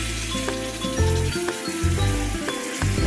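Coconut milk poured into a pan of sizzling masala potatoes for a spicy prawn curry, producing a loud, bubbling sizzle with clinks and stirring noises, close and without talk.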